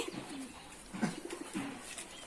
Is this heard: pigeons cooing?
yes